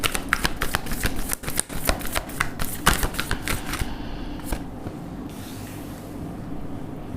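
A deck of tarot cards is shuffled up close, a quick series of crisp riffling slaps and flutters that stops partway through, leaving faint room noise.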